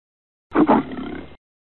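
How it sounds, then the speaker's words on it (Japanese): A lion gives one short, rough roar, close and fairly loud, lasting under a second and then trailing off. "ライオン。"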